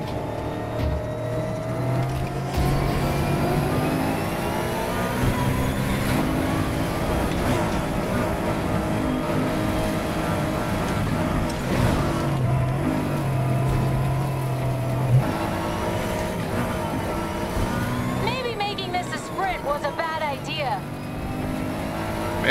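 Racing car engine in Need For Speed Heat droning steadily with gear shifts and road noise throughout, a player talking over it and music underneath.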